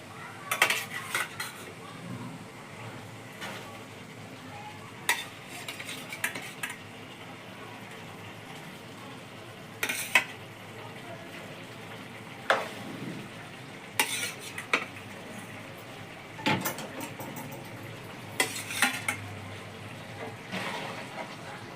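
Fish goes into simmering spices in a pan and is stirred, with repeated clinks and scrapes of a spoon against metal over a soft continuous sizzle, close up, the clatter coming in irregular bursts.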